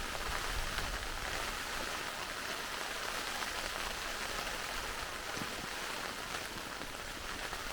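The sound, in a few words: rain falling on tent while wild camping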